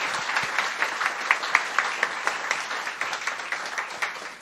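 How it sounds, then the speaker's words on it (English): An audience claps for a panel at a policy event, a steady patter of hands at moderate volume that continues evenly throughout. "I'm going to pass along applause for our panel."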